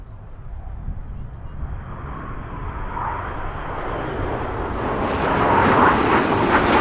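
Red Arrows jets passing overhead at an airshow, a broad roar that swells steadily louder and brighter as the formation approaches from a distance.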